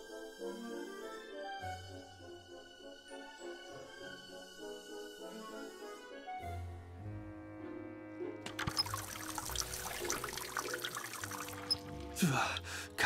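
Water pours steadily in the point-and-click adventure game The Raven, a broad splashing rush that enters midway and swells over soft background music.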